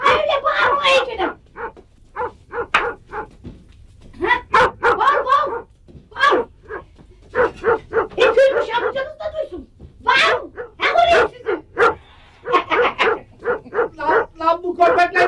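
Dogs bark in sharp bursts, with a few higher yips and whines mixed in, while people talk and call out over them nearby.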